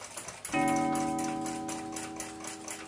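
An 1880s Seth Thomas mantle clock strikes its gong once, a bright ringing tone that decays slowly while the clock's steady ticking continues underneath, close and clear.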